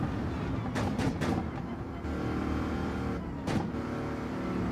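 A Corvette race car in Gran Turismo 7 at Le Mans drones steadily throughout, the engine note swelling in a few brief revving bursts early on and once more near the end, with no voices over it.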